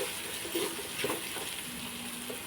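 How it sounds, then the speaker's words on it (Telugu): Water pours into a cooking pot of spiced bagara rice with a steady rushing, bubbling wash, continuous throughout with faint background noise. "ఇప్పుడు వాటర్ వేసేసుకున్నాం"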